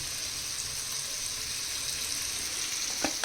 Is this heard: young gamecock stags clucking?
no